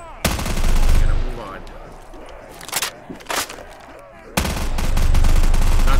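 Burst-fire FFA rifle gunfire in Black Ops 3, heard as loud clustered volleys at the start and again near the end, with a few sharper single cracks in between.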